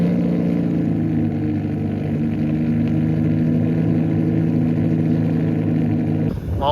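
Ferrari F60 America driving past at a car week gathering, its engine a loud, steady close drone with a brief sharper rise at the very end.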